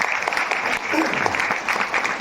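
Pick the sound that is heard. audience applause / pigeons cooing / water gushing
audience applause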